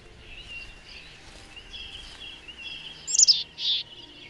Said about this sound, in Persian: پرنده ها.